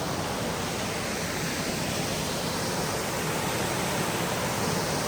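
A constant, broad roar of rushing water fills everything, even and unbroken, like a waterfall heard from nearby, with no voices.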